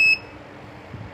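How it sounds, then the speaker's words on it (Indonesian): An Arduino buzzer triggered by a rain sensor gives one short, bright electronic beep, which cuts off almost at once and leaves near silence. "membunyikan buzzer"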